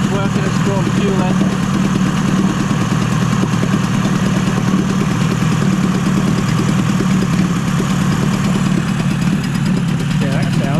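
A Yamaha 20A two-stroke outboard engine runs steadily for the whole stretch, close and loud, with a busy, rattly idle and constant vibration.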